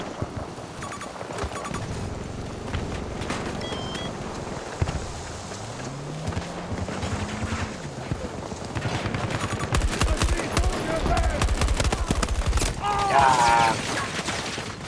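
Rapid game gunfire from a military shooter, with bursts and scattered shots running through the whole stretch, loudest in the final few seconds, while radio-style voices and in-game chatter play over the top.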